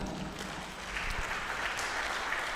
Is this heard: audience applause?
yes